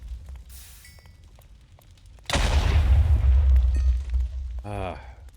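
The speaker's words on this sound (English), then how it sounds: "the little explosions that happen aren't terribly detrimental" A small explosion in Minecraft with the FTB Interactions modpack hits suddenly as a loud, deep boom, then rumbles and fades over a couple of seconds, after a quieter stretch of low in-game background sound.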